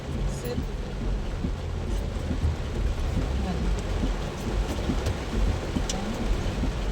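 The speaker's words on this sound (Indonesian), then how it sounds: "Hujan berhenti sebentar, hujan lagi." Heavy rain pours down on Makassar city streets, a dense, unbroken hiss of downpour that holds steady for the whole stretch, with no voices.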